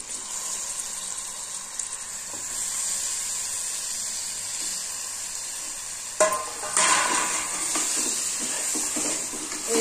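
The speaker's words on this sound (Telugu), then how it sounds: "కొంచెం అల్లం, ఉప్పు, ఇప్పుడు కూర వేస్తాను ఇందులో మటన్" Mutton with ginger and salt frying in a pan makes a steady high sizzle that flares sharply about two-thirds through, with stirring scrapes after, close and with no voices.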